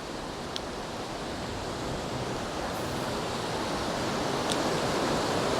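Deep river water rushing steadily past during steelhead drift fishing, a loud, unbroken broadband roar with no pauses.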